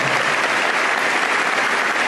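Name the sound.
applause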